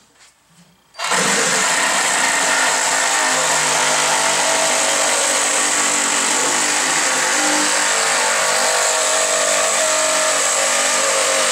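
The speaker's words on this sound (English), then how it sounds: "let's just see if we can take them off with the Sawzall" A Sawzall reciprocating saw kicks on after a second of quiet and runs loud and steady, cutting off edges on a CNC lathe part, with no talking over it.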